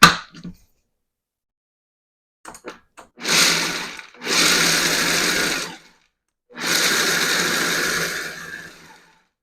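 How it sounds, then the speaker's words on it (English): A food processor pulsing peanuts for homemade peanut butter: a couple of tiny clicks, then three loud grinding bursts of about one to two seconds each, separated by short silences. "I'm just going to pulse these and get them going. So it's going to be a little loud."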